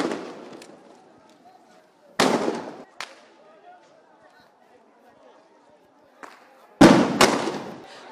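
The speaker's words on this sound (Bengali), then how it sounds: "কিছুক্ষণ পরপরই এখানে মুহুর্মুহু ফাঁকা গুলির আওয়াজ হচ্ছে" Gunshots fired into the air during a street protest at Jatrabari, Bangladesh, ring out as sharp, loud cracks: one around two seconds in, a lighter one soon after, then a close pair near the end, over a murmuring crowd background.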